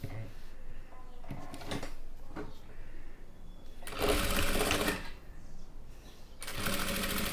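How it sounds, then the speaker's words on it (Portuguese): A sewing machine stitching lace trim onto blue fabric, running in loud steady bursts of rapid needle clatter separated by quieter pauses, with someone talking softly between the runs. "E aí, você vem costurando."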